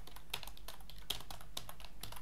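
Quick, steady keystrokes from a computer keyboard as Python code is entered, close and evenly spaced clicks over a low constant hum.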